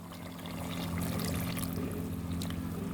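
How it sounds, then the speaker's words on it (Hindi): Half a cup of water is poured into a pan of chicken chilli gravy as a steady, close splashing pour that starts softly and carries on evenly for nearly three seconds. "मैं थोड़ा सा आधा कप पानी डाल रही हूँ"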